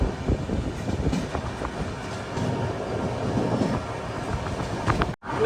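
A Thiruvananthapuram–Chennai Central mail train in sleeper class runs past Arakkonam station with a continuous, close rumble and rattling clatter of wheels on track, without a pause.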